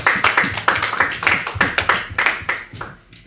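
A church congregation claps in praise of the Lord, a steady rhythmic run of hand claps filling the room, loud and close, slowing and thinning near the end.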